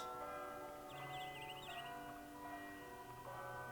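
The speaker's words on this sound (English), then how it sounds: "I guess that ends it with the bell ringing" A bell rings with a sustained, resonant metallic tone and long-ringing overtones, steady and moderately loud, with a few brief higher chirps passing over it and no voices.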